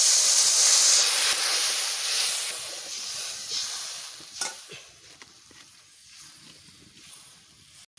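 Water poured into a pan of frying eggplant and egg masala sets off a loud hissing sizzle and rush of steam that slowly settles into a softer, crackling bubble.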